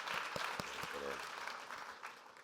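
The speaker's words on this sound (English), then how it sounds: "A huge round of applause." Applause from a leadership conference audience fills the clip, steady clapping at moderate distance with a voice briefly audible underneath.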